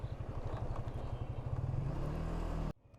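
A motorcycle engine idles with a rapid, steady putter, then cuts off abruptly near the end.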